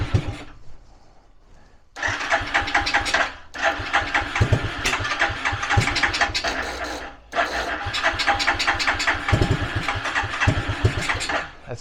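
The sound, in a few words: Suzuki LT300E ATV engine running warmed up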